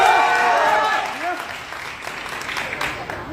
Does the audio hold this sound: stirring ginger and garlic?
no